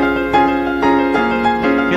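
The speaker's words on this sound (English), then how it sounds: "Okay, so the piano part sounds like this." Piano plays an accompaniment part as a steady run of eighth notes, close and moderately loud, with repeated chord attacks and no voices.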